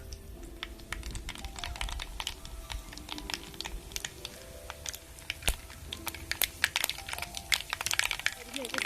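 Mustard seeds splutter and pop in hot coconut oil in a clay pot for a Kerala-style prawn roast, giving scattered crackling bursts that grow denser toward the end, with a voice speaking over them.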